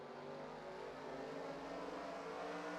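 Race car engine during a Myrtle Beach race, a steady droning roar with a slight upward pull in pitch, heard at a distance, continuous and without speech.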